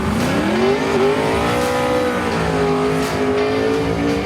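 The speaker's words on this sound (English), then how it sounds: "It runs a twin turbo, all aluminium, basically a custom engine that I designed with Mike Moran" A 1956 Chevy with a twin-turbo, all-aluminium custom engine revs loudly and close by, its pitch climbing and dipping in smooth sweeps.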